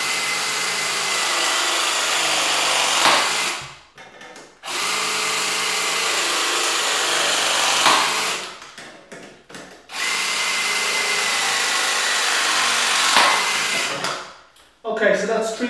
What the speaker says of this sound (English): Right, so I could clamp this T-piece.